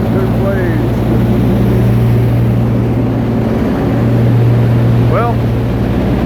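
A Cummins V16 turbo diesel generator runs under load during a test, a loud, constant low drone and hum heard close by, with brief speech over it.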